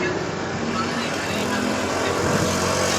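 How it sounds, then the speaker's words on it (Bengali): Steady road traffic rolls past a roadside shop, a continuous wash of cars and other vehicles at moderate loudness with a faint murmur of voices beneath. "রাস্তায় অনেক গাড়ি ঘোড়া যাইতেছে,"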